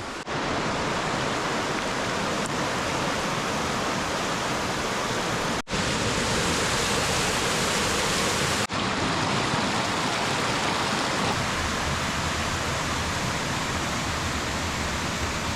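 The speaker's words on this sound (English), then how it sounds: "The water was really just cruising along here" Water rushing steadily down a rocky creek on a wooded hike, a loud continuous broadband roar close by with no voices.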